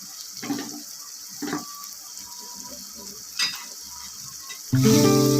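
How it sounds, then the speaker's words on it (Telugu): Country chicken pieces fry with chili powder in a pan for a gravy curry, giving a quiet sizzle with a few stirring bursts before a sudden louder, harsher surge near the end. "ఇలా కారం పచ్చివాసన పోయేంత వరకు వేయించుకోవాలి"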